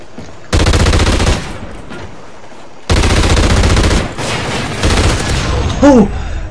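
Bursts of rapid automatic gunfire from an online Team Deathmatch round of Call of Duty: Ghosts, loud and close, in two long volleys with a short burst after, with a brief rising electronic chirp near the end.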